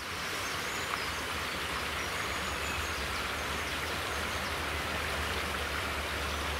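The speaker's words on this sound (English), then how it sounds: "Not sure where this little brook comes from." A steady, broadband rush of running water from a small brook near Aberkenfig, Wales, flowing nearby, continuous and even throughout with no voices.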